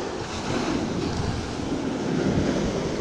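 Ocean surf washes continuously along a cold rocky shore where someone is fishing for hirasuzuki sea bass, a steady broad wash with wind buffeting, and no voices.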